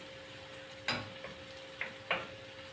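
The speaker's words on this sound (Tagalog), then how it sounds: "Ating ilagay yung ating pusit." Squid goes into a pan of cooking tomatoes for adobong pusit, making a few sharp clatters and bursts of sizzle over a quiet background hiss, with no talking.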